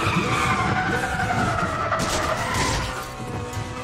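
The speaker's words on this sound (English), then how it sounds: "There's drifting" Car drifting and skidding in the racing video game Need For Speed The Run, with loud continuous tire squeal over a revving engine throughout, easing slightly toward the end.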